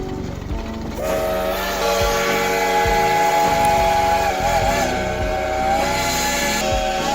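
Steam whistle of the Inyo 440, a compact Old West-style locomotive, sounds as one long loud sustained tone over rumbling, chuffing train noise.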